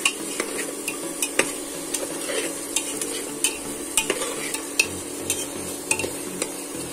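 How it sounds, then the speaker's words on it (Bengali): Fried lentil dumplings stirred and frying in spice paste for a watermelon rind curry, with a steady sizzle and regular scraping strokes of a spoon against the pan, close and fairly loud. "বড়িটা দিয়ে কিছুক্ষণ একটু কষিয়ে নেব।"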